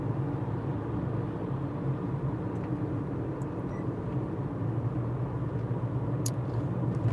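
Steady in-car road rumble from a vehicle cruising during a food delivery ride-along, a constant low drone of engine and tire noise with no talking.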